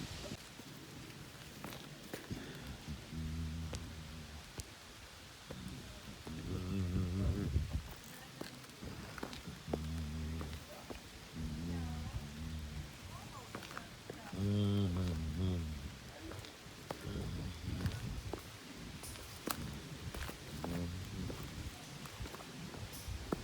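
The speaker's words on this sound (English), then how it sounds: "it appears as if it's beginning to rain out here" Rain starting to fall on a mountain hiking trail, a soft steady patter of drops over a broad hiss, with occasional brief clops and rustles close by.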